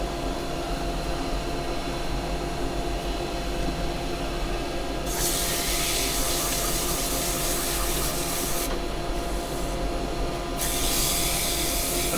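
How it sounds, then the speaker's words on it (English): Sandpaper rubbing inside a turned pine plant pot spinning on a lathe, a loud continuous hiss over the motor's steady hum, swelling into brighter, harsher scraping bursts partway through. "we're going to do a little bit of sanding in there"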